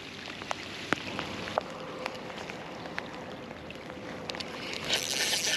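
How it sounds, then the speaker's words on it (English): Cold rain after light snow falls steadily while bass fishing from a boat, a dense soft patter with scattered louder drops close by, alone with no talk. "It's much more turned into just rain though."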